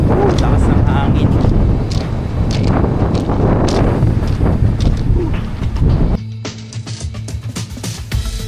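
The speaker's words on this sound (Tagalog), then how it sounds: "Lakas ng hangin ngayon dito." Strong southwest monsoon wind at a beach roars and buffets the microphone in heavy, continuous gusts, easing slightly near the end.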